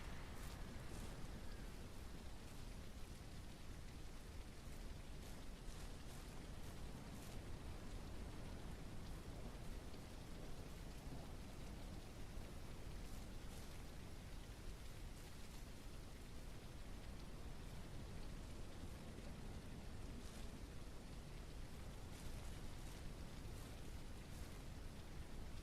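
Rain falls continuously in the farming video game Ranch Simulator, a dense, even hiss of drops on surfaces with a low rumble beneath, steady throughout and with no voices.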